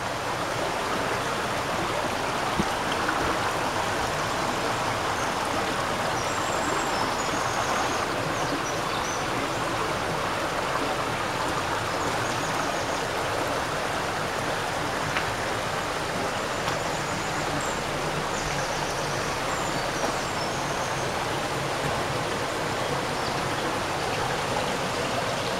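The Fraga river stream flows steadily in a continuous broadband rush of water, close and evenly loud for the whole span with no voices.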